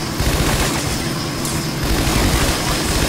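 Rapid bursts of gunfire in the Scarface: The World Is Yours game, loud and continuous like a firefight with overlapping shots and engine rumble underneath.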